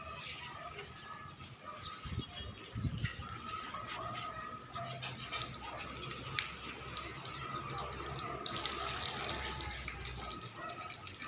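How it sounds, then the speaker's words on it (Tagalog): A creek near a house runs with a steady low gush of flowing water, faint and continuous in the background, with a few soft knocks and scattered distant noises over it. "Yan yung sapa."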